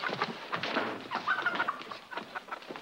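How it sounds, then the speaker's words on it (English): Several chickens cluck and squawk close by in a farmyard scene from a 1946 Roy Rogers western, a busy, continuous run of fowl calls with no one talking. "Chicken."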